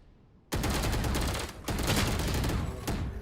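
Video game gunfire in a tactical shooter, loud sustained automatic bursts that open abruptly after a brief lull, with a short break partway through before the rapid firing resumes.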